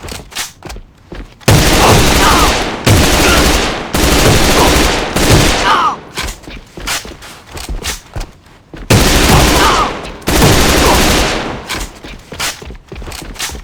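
Repeated bursts of rapid, loud K-2 rifle fire in the video game A.V.A, with long sustained volleys separated by brief pauses.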